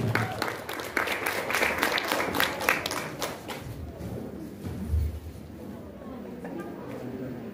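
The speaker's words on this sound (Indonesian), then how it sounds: "Beri tepuk tangan yang meriah" Audience applause after an announcement of an Acehnese Hikayat storytelling performance by performing-arts students at a semester exam, dense clapping for the first few seconds and then thinning into crowd chatter.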